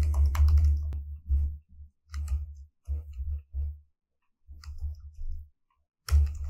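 Bursts of typing on a computer keyboard while naming icons in an AWS diagramming tool, several short runs of clicking keystrokes separated by pauses, close and fairly clear with no talking.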